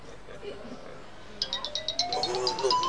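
A mobile phone ringtone starts partway through, a repeating bright electronic melody of short chirping notes that grows louder and continues to the end over faint background sound.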